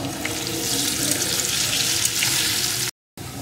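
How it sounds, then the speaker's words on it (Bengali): Taro pieces fry with turmeric and salt in a pan, giving a steady, loud, close sizzle that runs almost without a break and then cuts out briefly at the end. "এখন আবারও কিছুক্ষণ ভেজে নেব।"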